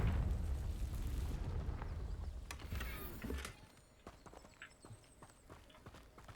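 A Confringo fire spell blasts in Hogwarts Legacy near crumbling tower ruins, a loud rumbling explosion at the start that fades into scattered crackling debris and clatter.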